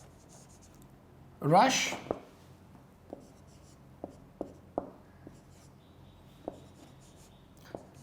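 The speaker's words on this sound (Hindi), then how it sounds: "मैं लिख भी देता हूँ इसको" A pen writing on paper close by, a burst of scratchy strokes followed by sparse light taps and short marks, quiet apart from a brief spoken word.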